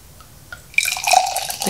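Pétillant naturel sparkling wine pours into a glass, a close liquid trickle and fizzing splash rising after a quiet start and continuing steadily to the end.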